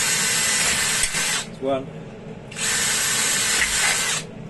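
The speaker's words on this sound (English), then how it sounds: "So I'm going to drill the hole with a 4mm drill bit." Electric drill boring a hole with a 4mm bit, loud broadband whirring in two bursts of roughly a second and two seconds, separated by a short pause in which a voice speaks briefly.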